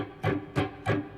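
Muted electric guitar strings picked with the right hand only, giving three dull, percussive bursts of scratchy noise with no note separation, close and fairly quiet.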